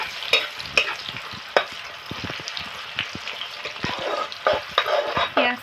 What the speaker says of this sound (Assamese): পিঁয়াজখিনি ৰঙা হোৱালৈকে এনেকৈ ভাজি থাকিব লাগিব।